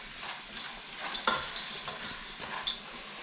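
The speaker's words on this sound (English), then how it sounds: "all we're going to do is stir these guys, so it doesn't burn" Onions sizzle quietly in a pan as a spoon stirs them, a soft continuous frying hiss with a few light scraping clicks, close but faint.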